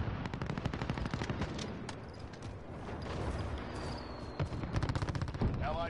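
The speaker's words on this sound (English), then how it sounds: "I think this M4 shoots better than any SMG" An M4 rifle in an online shooter fires rapid automatic bursts, loud and close, with brief pauses between strings of shots and faint distant gunfire underneath.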